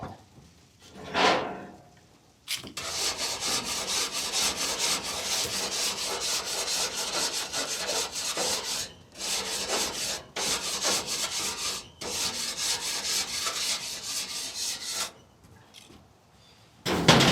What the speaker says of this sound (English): We clean the grill.